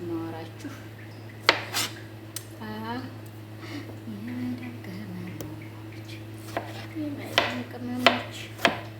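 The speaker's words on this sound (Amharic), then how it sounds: "ቲማቲም እየከተፍኩ ነው።" A knife chops tomatoes on a board, with several sharp, irregular knocks spread through the clip under a steady low hum and someone talking.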